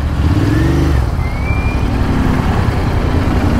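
A Royal Enfield Interceptor 650 Tracker, a 650 cc parallel-twin motorcycle, runs steadily on the road with a loud, continuous engine drone and rush of wind, its pitch shifting slightly as it pulls.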